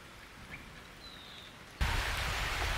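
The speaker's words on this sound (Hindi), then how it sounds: "देखिए बारिश मार रहा है" Heavy rain falling outdoors: quiet at first, then a sudden jump to a loud, steady, dense hiss of downpour that holds for the final second, with no talking.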